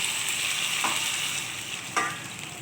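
A splash of water added to soybean kosha, soya chunks with potato frying in a pan, keeps up a loud, continuous sizzle, broken by two brief sputtering bursts.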